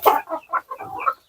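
Black Andijan chickens cluck close by in a quick series of five or six short, choppy calls with brief pauses between, and no people speaking.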